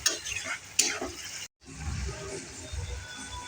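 Taro stolons and prawns sizzle and are stirred in a pan, a steady frying hiss with a couple of sharp utensil scrapes before a brief silent gap, then continued low sautéing.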